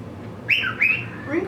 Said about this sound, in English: Ringo is a pretty bird.